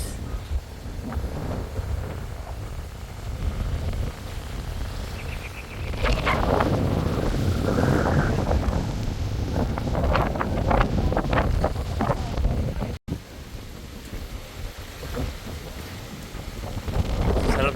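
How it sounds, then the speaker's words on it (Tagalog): Strong gusts buffet the microphone at a beach resort on Calatagan, Batangas, a loud, continuous low roar that swells around the middle and stays heavy throughout, with faint voices underneath. "lakas ng hangin, grabe."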